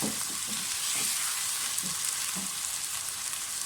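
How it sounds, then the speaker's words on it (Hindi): Yogurt (curd) goes into a pan of browned ingredients for an aloo chicken shorba, giving a steady loud sizzle and frying hiss with a few stirring scrapes; no voices. "अब साथ ही इसमें दही डाल दें।"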